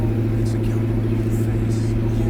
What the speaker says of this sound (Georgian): აი მესამე სიჩქარე წავიდეთ აღმართში და მოგოდულად რო ისმის ეს 8 ცილინდრი